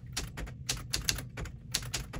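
A Smith-Corona Classic 12 manual typewriter clacks out rapid, uneven keystrokes, about a dozen sharp strikes in two seconds, close and crisp with no talking.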